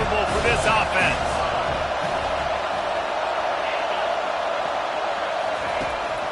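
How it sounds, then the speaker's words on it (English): Football stadium crowd at a college game against BYU, a steady loud roar of thousands of fans building noise against the offense, with sports commentary talking over it throughout. "This crowd trying to make life miserable for this offense."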